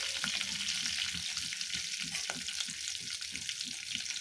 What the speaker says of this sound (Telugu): జస్ట్ ఇట్లా పోపు పెట్టుకోవడం.